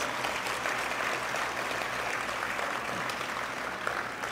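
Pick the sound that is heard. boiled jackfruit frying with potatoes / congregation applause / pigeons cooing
congregation applause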